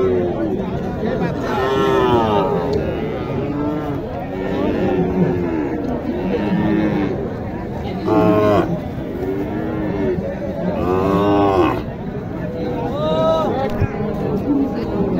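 Sahiwal cattle low and moo repeatedly at a busy cattle market in Naogaon, deep drawn-out calls rising over steady crowd chatter and nearby talking.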